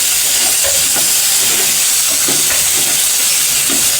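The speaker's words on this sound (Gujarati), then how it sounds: "હવે આપણે તેમાં ચણા નાખી દઈશું. તેને આ રીતે હલાવીને મિક્સ કરી લઈશું." Chickpeas stirred in hot oil with curry leaves in a pan, giving a steady loud sizzling hiss with soft scraping stirs scattered through.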